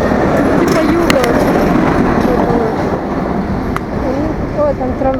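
A tram rolls along an evening street in Belgrade, a loud, steady rumble with rail squeals and clatter that fills the whole stretch, and a voice is faintly present.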